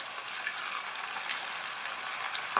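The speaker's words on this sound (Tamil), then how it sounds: "இப்போ எண்ணெயில் போட்டு பொறிச்சு எடுத்துடலாம்." Cauliflower pieces deep-frying in hot oil in a kadai on a medium flame, a steady soft crackling sizzle with no voices.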